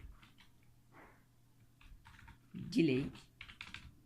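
Soft clicks from a computer keyboard come in scattered taps, faint and close, with a voice speaking quietly over them.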